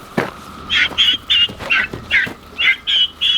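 A bird on a homestead squawks in a run of about eight harsh, rasping calls in quick succession, fairly close and loud, with no talk over it.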